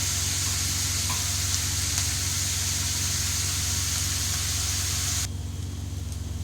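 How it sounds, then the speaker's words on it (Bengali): Onions frying in a pan until brown, a dense close sizzle over a low steady hum, running evenly before dropping to a quieter hiss near the end. "এইভাবে আমি একদম ব্রাউন কালার করে নেব। এইভাবে মোটামুটি 10 মিনিট এভাবে ভাজতে হবে।"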